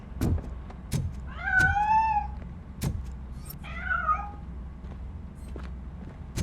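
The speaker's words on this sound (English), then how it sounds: "That cat must be hiding inside." Two clear cat meows in the RoboCop: Rogue City video game, a rising, wavering call followed by a shorter second one, set between sharp thumping footsteps over a low ambient hum.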